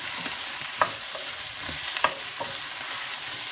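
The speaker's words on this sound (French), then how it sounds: "je place mes oignons dans la cocotte" Onions frying in a large stockpot over high heat, stirred with a utensil: a steady soft sizzle with a few sharp scraping clicks against the pot, close and alone with no talk.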